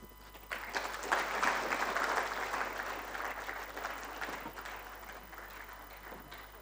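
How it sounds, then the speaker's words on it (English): Sustained audience applause at a Merck Foundation Africa Asia Luminary ceremony honouring the First Lady of Senegal, a dense wash of many hands clapping that swells early, holds steady and slowly tapers, heard from a moderate distance. "Another round of applause, ladies and gentlemen."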